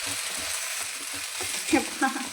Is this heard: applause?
no